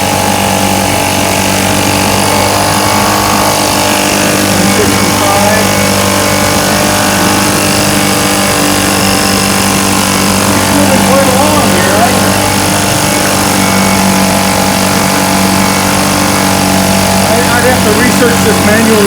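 A 1971 Johnson Mate 2 hp air-cooled outboard engine runs continuously at steady speed, a loud, dense buzzing drone that holds without a break.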